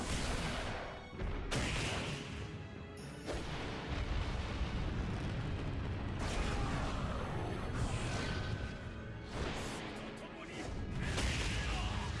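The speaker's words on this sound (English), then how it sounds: "Evil Ryu ripping out an extremely powerful version of his Ultra 2" Evil Ryu's powerful Ultra 2 attack in a fighting game, heard as a series of heavy booming impacts and explosive blasts with loud rumbling bursts that swell and fade across the stretch.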